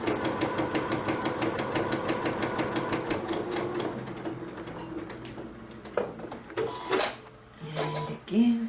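Janome sewing machine stitching a fabric mug rug, fast rhythmic needle chatter for about four seconds, then slowing and stopping amid the clunks of the presser foot being lifted and the fabric turned.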